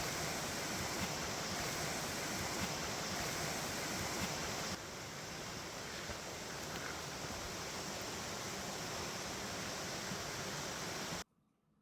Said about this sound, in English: here we are doing our first, I guess, midnight river crossing